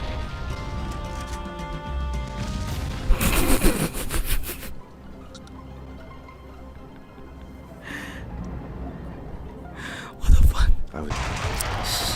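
Gunfire and explosions in the video game Max Payne 2: two loud broadband blasts, one long and one short, break through a steady bed of game noise and music.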